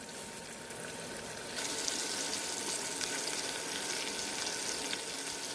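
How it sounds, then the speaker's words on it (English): Pork chops fry in a pan over a high burner with a soft, steady sizzle that grows a little louder partway through and keeps an even crackle. "Pork chops tend to dry out very quickly, so it's best to keep your burner on high and then let it fry quickly"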